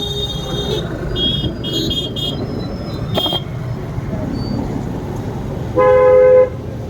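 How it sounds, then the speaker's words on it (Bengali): Dense street traffic in Chennai rumbles steadily, with a few short horn toots early on and one louder, sustained honk near the end. "এত ট্রাফিক হয় চেন্নাইয়ে।"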